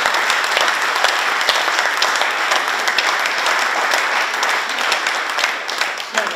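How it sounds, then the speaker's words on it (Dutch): An audience at a Dutch anniversary talk-show event breaks into full, steady applause, a thick wash of many hands clapping at even loudness throughout, with faint voices mixed underneath. "dan mogen we best een applaus voor geven"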